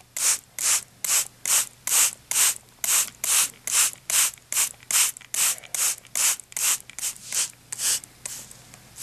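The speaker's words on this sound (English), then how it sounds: "I just like using a spray bottle." About twenty quick hissing bursts from a hand spray bottle misting water onto vermiculite for incubating gecko eggs, evenly paced and close, each spritz short and sharp with brief gaps between.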